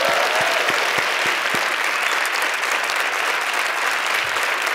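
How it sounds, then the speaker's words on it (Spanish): Sustained studio audience applause from a late-night Spanish comedy show fills the whole stretch, dense and steady, with a few sharper claps standing out near the start. "Un aplauso para este hombre,"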